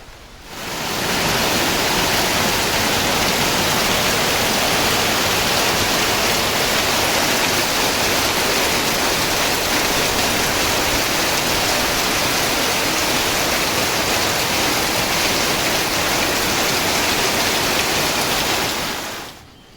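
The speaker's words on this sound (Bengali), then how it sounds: "বৃষ্টি এসে গেছে" Rain falling in a village, a dense, loud, even hiss of steady downpour that fades in, holds for nearly twenty seconds and fades out, with no voices.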